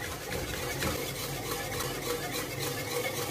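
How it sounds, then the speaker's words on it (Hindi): A milk mixture for mango panna cotta is stirred in a pot with a continuous, even scraping swirl that fills the whole moment without any talking. "अब इसको अच्छा सा मिक्स कर लेंगे।"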